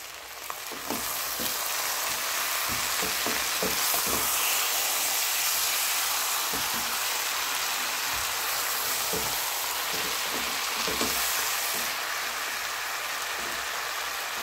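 Tomatoes cook under a lid in a covered pan for Armenian zharko, giving a steady loud sizzle and hiss with scattered sharp pops and crackles throughout, and no voices.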